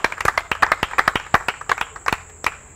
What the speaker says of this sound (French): On applaudit très fort, on applaudit.